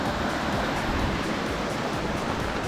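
A small river runs under a bridge on a trail toward waterfalls, making a steady, loud, broadband rush of flowing water throughout.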